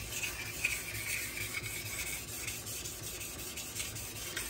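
A knife blade is sharpened on a 3000 grit stone in a Buck Honemaster guide, making a close, continuous, gritty rasping scrape with repeated back-and-forth strokes and no talking.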